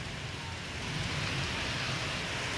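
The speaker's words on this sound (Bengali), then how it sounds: "এই পরিমাণ অঝোরে বৃষ্টি আর কি" Heavy rain in Jessore pours down as a steady, even hiss of drops on surfaces, continuous and moderately loud throughout, with no voices.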